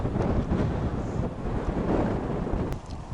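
Strong wind buffets an open field, rumbling hard against the microphone in heavy continuous gusts with no pause.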